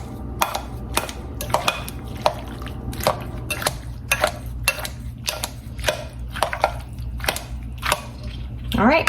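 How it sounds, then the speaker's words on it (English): A knife chops sweet Vidalia onions on a board with close, crisp, irregular strikes spread throughout, alongside faint kitchen clatter. "Still need a little chopping."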